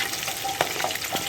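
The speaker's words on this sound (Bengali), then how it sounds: "আস্তে আস্তে মাছগুলো ভেজে নেব।" Pabda and rui fish fry in a pan with a steady, close crackling sizzle. Small pops break through the hiss now and then, and it cuts off abruptly at the end.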